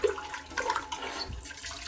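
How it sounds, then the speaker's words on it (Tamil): Dal lentils are rinsed with water in a kitchen before making sambar, giving a close, splashy gush of sloshing water with uneven surges over a couple of seconds. "இதை நான் ஒரு 3 டைம் நல்லா தண்ணி ஊற்றி இந்த மாதிரி கழுவி எடுத்துக்க போகிறேன்"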